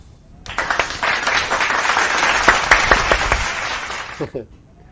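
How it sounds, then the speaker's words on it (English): A burst of dense crackling video-game applause with sharp pops, rising quickly and holding steady for a few seconds before cutting off. "let's give everyone a big applause"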